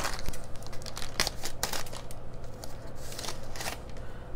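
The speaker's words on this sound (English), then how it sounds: "So let's open the package. So it came like this, in a box, in this plastic." A plastic-wrapped box holding a black cat diamond painting kit is unwrapped, with close crinkling, rustling and sharp tearing bursts scattered across several seconds, no talk.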